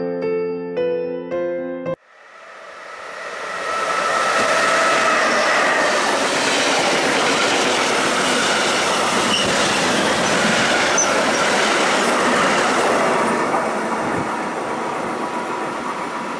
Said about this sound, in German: Wir befinden uns jetzt auf dem neuen Haltepunkt Heigenbrücken